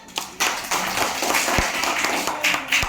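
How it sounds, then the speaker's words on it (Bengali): Small group clapping for a child who has just read out his writing in a room, uneven scattered claps with a few sharper hand slaps, lasting the whole moment, close and fairly loud. "তাহলে একটা হাততালি হয়ে যাক।"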